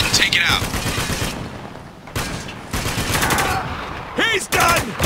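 Turret machine gun fire from the Spec Ops The Line video game, heard as loud rapid bursts of gunfire separated by short gaps, with shouted voices in between.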